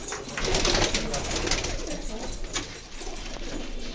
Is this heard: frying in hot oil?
no